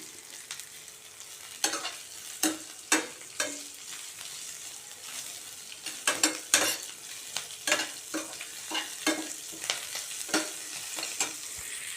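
Green chili and tamarind thokku sautéing in a pan, with a steady sizzle broken by repeated sharp scraping strokes of a stirring spoon at an irregular pace, close and fairly loud, with no talking.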